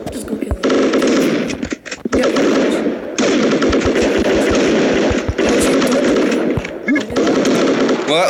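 Rapid bursts of video-game machine-gun fire rattle loudly in several long volleys separated by brief pauses, with a few sharper single shots near the end.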